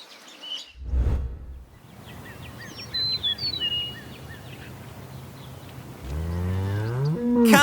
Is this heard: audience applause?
no